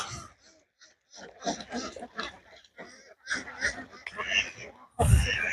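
Ducks at a farm on Chamta beel. Irregular bursts of nasal honking quacks come close and fairly loud, thickening toward the end into a louder, denser clamour.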